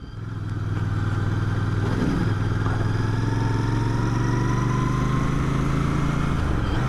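A Royal Enfield Bear 650 motorcycle engine idles steadily and loudly up close, a deep continuous throb with a faint mechanical clatter and no change in pace throughout.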